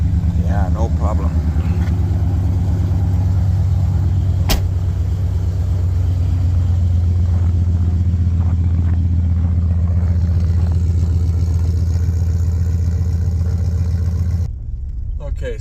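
A Dodge Dakota truck swapped with a 5.9 Magnum engine idles after a cold start on a very cold morning, a loud, steady low rumble close by that cuts off near the end.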